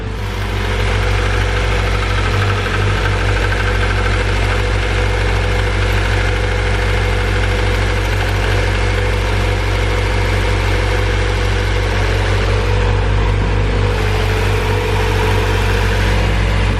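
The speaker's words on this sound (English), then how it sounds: "I think I have exhaust leak somewhere." Honda car with a B16 engine swap idling steadily with an exhaust leak, a constant close, loud low rumble with a faint raspy hiss on top, running unbroken throughout without any talk.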